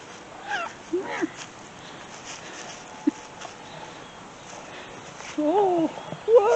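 A cat purrs and lets out a few short meows, with a longer rising call near the end, amid a steady low background and occasional faint voices.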